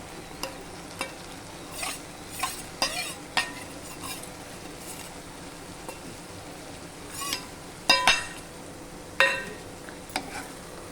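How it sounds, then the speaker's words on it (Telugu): A spatula stirs chikkudukaya (broad bean) and tomato curry with coconut powder in a pan, producing irregular scrapes and metallic clinks over a low, steady sizzle. "ఇప్పుడు కలుపుతున్నాము. ఇప్పుడు కొబ్బరి పొడి వేయచ్చు."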